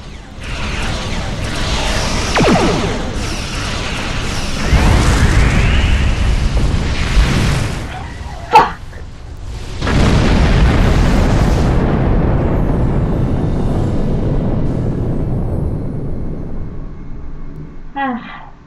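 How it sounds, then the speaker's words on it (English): Explosions and heavy booms from the Doomsday machine opening fire in the Star Trek Online video game: loud blasts and rumbling bursts, a sharp pop near the middle, and mechanical creaks, all filling the space with sustained roaring noise. "The Doomsday machine is about to open fire."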